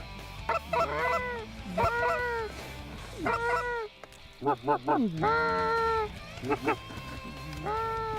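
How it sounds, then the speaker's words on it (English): A flock of geese honks repeatedly in bursts, close and loud, with ducks among them, over a steady outdoor background while a voice talks underneath. "Several groups of ducks and geese continued to work the spread."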